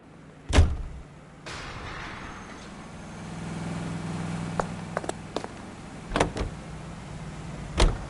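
A car door slams shut in the video game L.A. Noire, followed by a low engine idling and revving, with further door thumps and clicks sounding close and sharp near the end.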